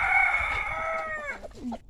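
A broody hen nearby gives one drawn-out, strained call that falls off into a few short, low clucks.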